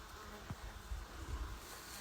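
Hornets and wasps buzz around beehives in the Carpathian foothills, a steady close insect drone with brief louder passes, no talking.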